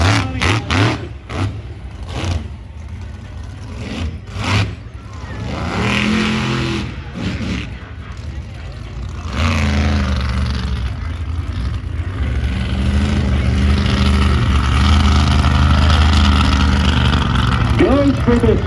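The Bounty Hunter monster truck revs hard during a sky wheelie at a Monster Jam show, the engine roaring and building into a sustained loud drone. An announcer talks over it, with crowd noise and earlier sharp bangs before the roar.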